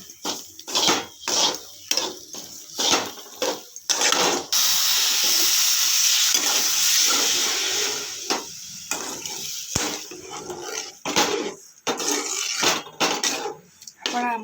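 Water added to semolina upma cooking in a pan, with sharp metallic clinks of a spoon against the pot and a sustained steam hiss in the middle, close, as someone talks.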